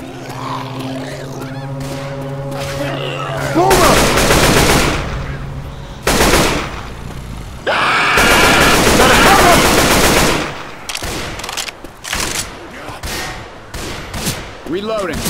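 Heavy bursts of automatic gunfire from Left 4 Dead 2 blast in long loud volleys, interrupted by short gaps, with game voices and zombie grunts in between.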